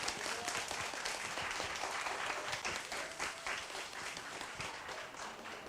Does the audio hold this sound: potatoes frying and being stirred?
no